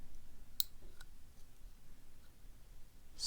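Faint, sparse clicks sound as an MCM AS6 euro profile cylinder lock is picked, a few isolated ticks spaced apart over near silence.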